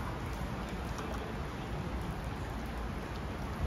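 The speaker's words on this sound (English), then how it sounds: "He's going to walk into the rain" Steady rain falls outside a Manchester curry house as a continuous, even hiss of drops on the surface, close and moderately loud throughout, with no voices.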